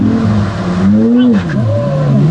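A manual Pagani Zonda F hypercar launching in a drag race: a loud, close engine roar climbs in pitch, dips at a gear change, then rises again.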